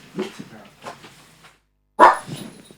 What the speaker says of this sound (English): We got a little guard dog here.